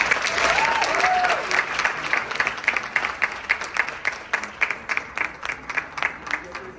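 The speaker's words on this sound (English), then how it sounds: "Let's give another round of applause for them," An audience at an indoor event gives a round of applause, dense at first and then thinning into scattered, distinct claps as it dies down. A voice is briefly heard at the start.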